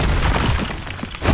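Confringo blasting curse from the Hogwarts Legacy video game bursting into a loud, broadband explosive crack with a shattering edge, dense and close, filling the short moment with no talk over it.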